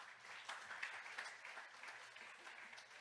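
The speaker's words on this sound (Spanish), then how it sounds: "eso yo creo que merece un aplauso en esta mañana" A church congregation claps together at a Thanksgiving service, a faint, steady patter of many hands lasting several seconds without voices over it.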